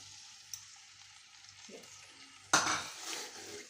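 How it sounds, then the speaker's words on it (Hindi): Half a kilo of chicken goes into a hot karahi over warmed salt, a quiet hiss and faint scrape first, then a loud burst of sizzling as the meat hits the pan and keeps frying steadily. "अब हम इसमें 1/2 kg चिकन ऐड करेंगे।"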